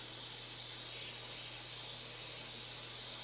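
A torch heating a bolt on a 1985 K-15 front axle: a constant loud, close roaring hiss of the flame with a low steady hum underneath, unbroken throughout.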